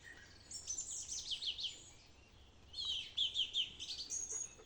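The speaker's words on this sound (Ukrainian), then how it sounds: "Не знаю, що за пташки це." Birds chirp and trill in quick varied bursts, two clusters of high twittering calls separated by a short pause, fairly close over a quiet background.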